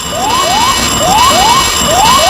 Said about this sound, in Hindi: तभी उन्हें एक अलार्म सुनाई देता है